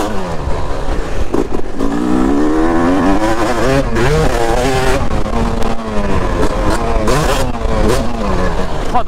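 A motorcycle on stock carburettor settings revving hard and close, its engine pitch sweeping up and down repeatedly through rising and falling throttle blips, loud and continuous throughout.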